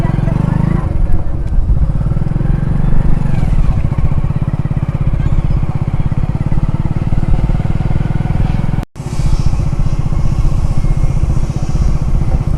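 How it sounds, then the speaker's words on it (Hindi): A motorcycle engine catches and settles into a loud, close, steady running drone as the bike rides off toward a village, with a brief dropout near the end. "चलिए यहाँ पे हम अपने बाइक को स्टार्ट करते हैं"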